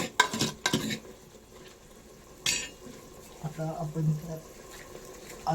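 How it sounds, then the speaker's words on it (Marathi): Chicken curry is stirred in a pot, with a few loud metal scrapes and clanks of the spoon against the sides over a soft simmering sizzle. A person talks between the stirs. "ते असं मस्तपैकी हलवून घ्यायचं आहे"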